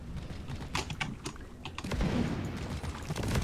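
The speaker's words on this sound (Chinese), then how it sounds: "哦，连锁爆炸" Chained explosions from the mining co-op game Deep Rock Galactic, a burst of sharp cracking blasts and rattling detonations in quick succession, dense and fairly loud against a constant rumbling game background.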